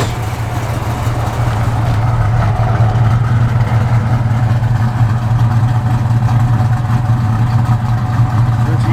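A 1968 Ford Mustang with AFR aluminum heads runs steadily, a loud, close, continuous low engine rumble with no voices.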